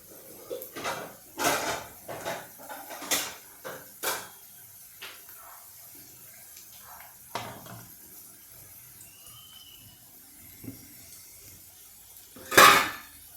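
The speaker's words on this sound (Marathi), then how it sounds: "आता ही भाजी आपण एका बोलमध्ये काढून घेऊया" Cooked chivali greens scooped out of a pan into a bowl, a series of close metallic clinks and scrapes of a spoon against the pan, spaced irregularly, with one louder clatter at the end.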